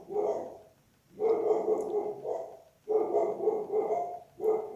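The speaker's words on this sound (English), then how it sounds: "Sorry about the dogs" Dogs bark in a few sustained, fairly muffled bouts that repeat with short gaps, sounding somewhat distant indoors with no talking over them.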